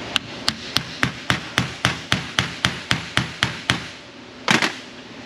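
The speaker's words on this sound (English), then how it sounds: "Maybe the smaller hammer would be a better choice here." A hammer strikes metal pistons of a Pontiac Firebird engine in a steady rhythm of about a dozen sharp, ringing blows, then pauses before a final double hit.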